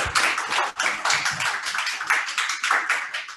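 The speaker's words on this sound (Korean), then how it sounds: "우리 축하의 박수 한번 하겠습니다." A church youth congregation claps to congratulate a wedding, a lively burst of rapid hand clapping from a small group indoors, uneven and crisp, lasting a few seconds with a brief dip near the start.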